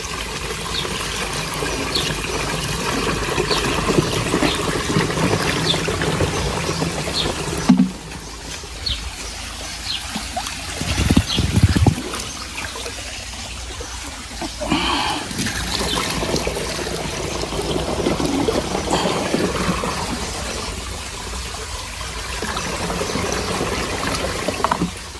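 Water is poured from a small tin container in a farm field, a continuous trickling and splashing that rises and falls in strength over a long stretch, with brief louder bumps midway and no voices.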